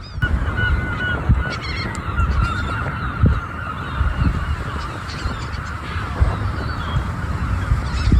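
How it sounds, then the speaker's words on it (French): A large flock of seagulls calls during the November gull season at Kinmen, loud, continuous overlapping honking cries close by with no talking. "La saison des mouettes à Kinmen a lieu chaque mois de novembre."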